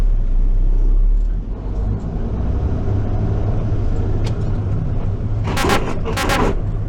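Car engine rumbling steadily through a driving lesson, a constant low drone with brief bursts of broadband noise near the end.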